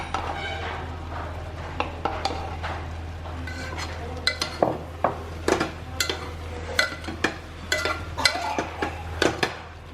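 Dry fish and garlic stirred in a cooking pot of taro leaves curry, a steady low sizzle under repeated close clinks and scrapes of the spoon against the pot.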